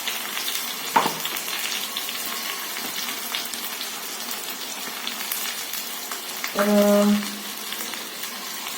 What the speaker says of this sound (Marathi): आता ही टोमॅटोची प्युरी पण छान परतून घ्यायची आहे.